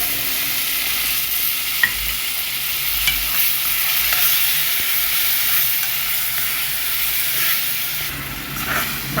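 Onion and spices frying together in a pan for Egyptian fish sayadeya rice, with a steady broadband sizzle and hiss and occasional stirring scrapes and clinks, close and continuous with no talking.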